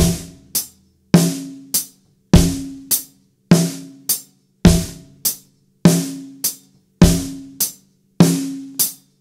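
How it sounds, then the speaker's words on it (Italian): Slow single strokes on a snare drum land together with the bass drum, in pairs of sharp hits separated by short silences. The pattern repeats steadily, close up, with no voices. "quindi partiremo con il rullante in questo modo."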